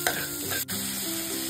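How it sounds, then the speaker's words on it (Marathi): Washed green peas land in a pan of green masala paste frying in oil, with a close, steady sizzle and the sound of stirring that briefly dips before the frying noise resumes. "वाटण छान असं परतून घेतलं की यामध्ये आता आपल्याला हे धुतलेले मटार टाकायचे"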